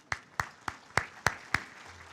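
Six sharp, evenly spaced claps from a lone pair of hands ring out at a university scholarship banquet, near and distinct, with a quiet pause after the last one and no talk.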